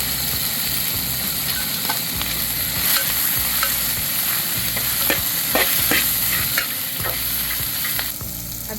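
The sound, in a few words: crushed peanuts, chili and garlic stirred into hot tempering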